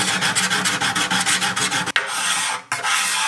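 Wood of an acoustic guitar's arm bevel is worked: rhythmic scraping strokes first, then a steady abrasive hiss of a power sander that cuts off briefly and resumes.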